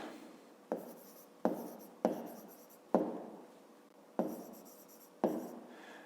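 Pen or pencil writing on paper during a fifth-grade math exercise, six distinct scratchy strokes in uneven rhythm, close and fairly quiet with no talk.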